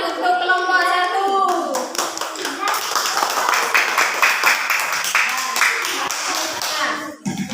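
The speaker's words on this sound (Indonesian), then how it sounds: "Ya, tepuk tangan untuk kelompok 1." A burst of classroom clapping from a group of students, brisk and irregular, with children's voices chattering over it, fading out near the end.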